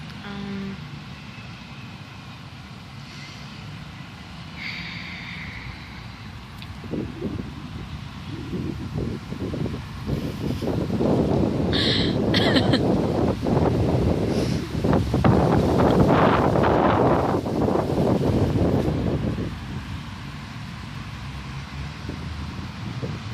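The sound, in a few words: wind blowing outdoors across the microphone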